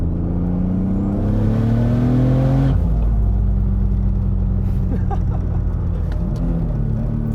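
A turbocharged 675 HP E36 BMW M3 accelerates hard with loud engine harmonics rising steadily, then a gear change near three seconds before the revs climb again. The car is close, with a constant roar and whine throughout and no talk.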